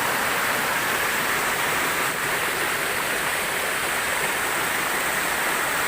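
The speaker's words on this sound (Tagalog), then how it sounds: "Yung falls." Waterfall inside an underground cave, a constant broad roar of rushing water that stays loud and unbroken throughout, with no voices over it.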